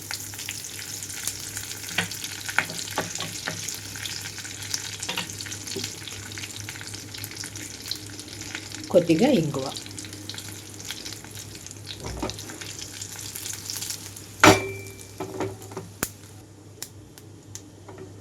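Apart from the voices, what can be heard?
tempering seeds and curry leaves sizzling in oil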